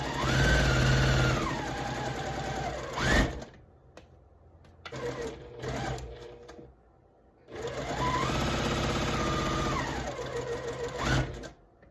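Sewing machine stitching quilt block pieces for a pressed-flowers quilt, running in two long steady bursts separated by a quieter pause with brief handling noises.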